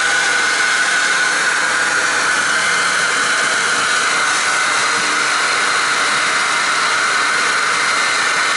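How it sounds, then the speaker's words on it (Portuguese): A hair dryer blows steadily on a colorful Christmas ball ornament, a continuous loud, even whoosh with a whining hum that lasts throughout without pause or talk. "Agora eu vou pegar o secador e vocês vão ver que legal que vai ficar."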